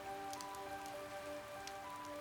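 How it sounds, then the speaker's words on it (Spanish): Soft rain patters steadily on window glass at night near the ocean, a continuous gentle hiss with faint droplet ticks and a low steady hum underneath. "La lluvia golpeaba el vidrio de forma delicada"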